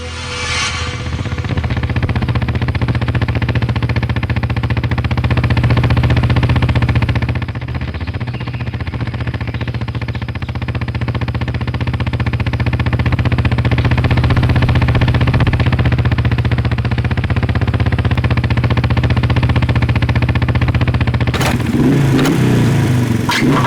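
A faulty motorbike engine runs and revs, a loud rough mid-pitched drone that swells and dips over about twenty seconds, close by with no talking.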